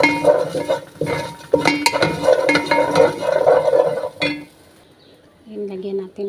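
Fish dish ingredients being mixed in a metal pot, busy clanking and scraping of a utensil against the pot in a loud run, then a lull before a voice speaks near the end.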